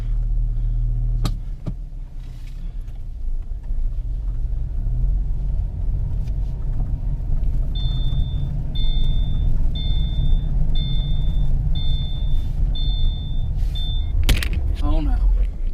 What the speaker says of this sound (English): Now we're going to take it for a little ride.